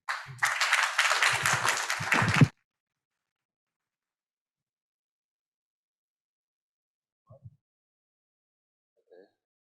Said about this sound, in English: So please give a warm round of applause for Dr.